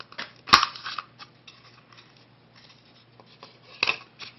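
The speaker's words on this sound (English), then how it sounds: "I'm going to cut it wider than I need." A cutting tool works through wood being shaped for a Native American flute, giving scattered, dry, close-up scraping and snipping sounds, with one sharp crack near the start and another cluster of cuts toward the end.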